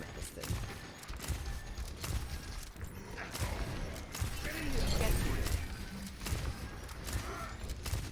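Rapid gunfire in a shooter video game crackles in dense bursts across the scene, loud and continuous, with talking over the top.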